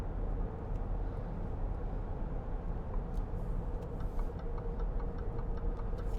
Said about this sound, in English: you can hear the indicator